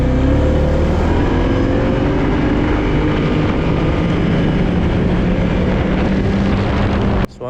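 A 2024 Polaris Indy Adventure 137 snowmobile with a Pro Star S4 four-stroke engine drones steadily while riding, a loud, even engine hum mixed with heavy wind rush throughout, ending in a brief clatter.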